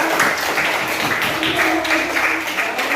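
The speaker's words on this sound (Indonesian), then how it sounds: "Oke, tepuk tangan dulu buat anak kita." Classroom applause for a student during an Islamic religious lesson in Indonesia, steady clapping from a group of pupils with some voices mixed in underneath, moderately loud throughout.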